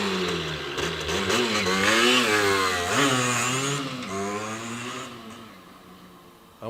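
A 2001 Derbi Senda SM75 two-stroke street-legal enduro motorcycle revs up close. A buzzy, rising and falling engine whine swells loud, then eases back toward idle.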